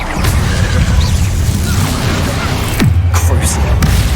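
A Confringo blasting spell goes off in the Hogwarts Legacy video game, a dense rumbling burst with a sharp whoosh near the end, set in continuous loud game noise.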